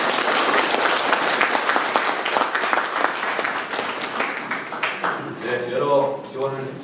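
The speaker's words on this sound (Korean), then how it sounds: "다시 한번 의사님께 네, 박수를 한번 부탁드리겠습니다" An audience applauds after a priest's lecture at a cultural festival, steady clapping filling the room for several seconds before thinning out as a voice starts speaking near the end.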